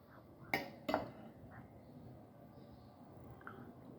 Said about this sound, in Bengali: এখন আমি আমার প্লেটে তুলে দিচ্ছি